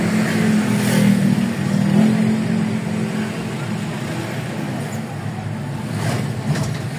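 A motorcycle engine runs with a steady, loud rumbling drone that swells slightly early and then holds even, while a voice speaks over it.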